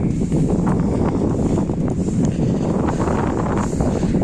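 Strong wind in Mindelo, Cape Verde, buffeting the microphone with a constant low roar and rustle, loud and close, no voices.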